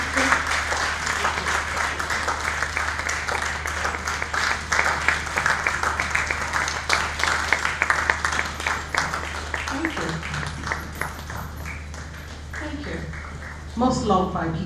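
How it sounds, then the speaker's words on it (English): Audience applause at a civil luncheon honoring a retired colonel, a dense, sustained patter of many hands over a low hum that rises and thins toward the end, with a voice speaking over it. "Please keep clapping"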